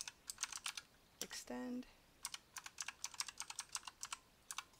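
Keys tapped on a computer keyboard in bursts of separate clicks while text is entered for Photoshop Generative Fill, with one brief spoken word partway through.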